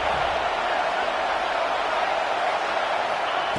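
A stadium crowd at a football game roars in a steady, dense wash of noise for the whole stretch, loud and unbroken, pushing the defense toward a red zone stop.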